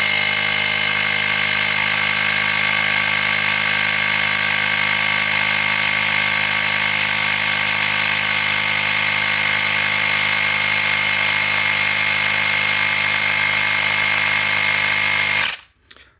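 A Ryobi 4V handheld high-pressure inflator pumps with a loud, steady buzzing motor hum held continuously for about fifteen seconds, then cuts off abruptly.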